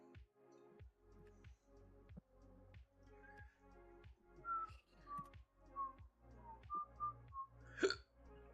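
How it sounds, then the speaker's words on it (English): Repeated hiccups from a person during a Pokémon gaming stream, sharp periodic jolts about every half second over a steady background, growing louder toward the end with a high squeak near the finish. "Oh my god, the hiccups."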